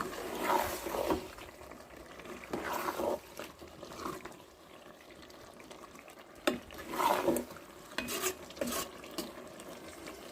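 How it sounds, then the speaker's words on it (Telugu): A spoon stirs a cup of milk into a simmering vegetable curry in a pan. Close, wet swishing and scraping strokes come in two bursts, with a faint sizzle underneath. "ఒక కప్పు పాలు పోద్దాం ఒకసారి మళ్ళీ ఒకసారి అలా కలుపుదాము"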